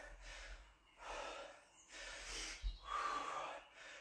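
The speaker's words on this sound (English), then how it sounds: "Keep breathing throughout, guys." Heavy rhythmic breathing during exercise, close and fairly quiet, with repeated deep inhales and exhales and a sharp snort-like breath near the middle.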